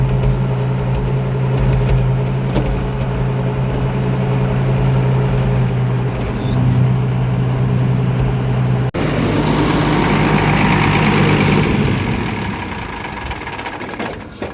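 A dairy farm tractor engine runs steadily at a low, droning idle, loud and close, then changes abruptly partway through as it is shut off with a Murphy switch, leaving a rougher, noisier tail.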